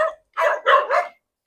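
Several dogs bark at night in a residential street in the Philippines, a short burst of three loud, close yips and barks, with another bark starting at the end.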